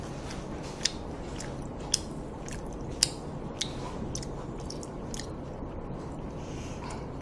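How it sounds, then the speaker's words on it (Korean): Close-up chewing with soft smacks and small crisp crunches at irregular intervals, eating snacks of jokbal (pork trotters) and makguksu buckwheat noodles, over a quiet background hiss. "지금 쩝쩝 소리 너무 많이 나요"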